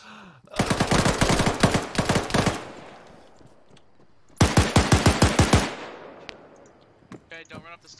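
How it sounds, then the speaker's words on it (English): Automatic gunfire in a video game rattles in two long, rapid bursts, loud and close, with a quiet gap between them and a short fainter burst of shots at the end. "Apparently, they're shooting at me."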